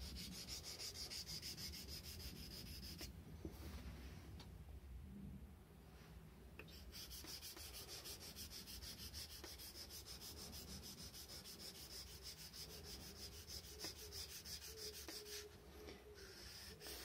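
A leather-craft knife is sharpened on a whetstone on a water-cooled sharpening machine, a steady faint rasping scrape with short pauses as the blade is shifted.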